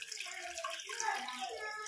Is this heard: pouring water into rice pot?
yes